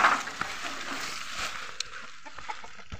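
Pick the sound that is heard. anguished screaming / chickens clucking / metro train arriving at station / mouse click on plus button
chickens clucking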